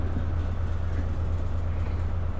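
Train running on main line tracks in Train Sim World 2, a steady low engine rumble and rolling drone, constant and fairly loud, with no voices.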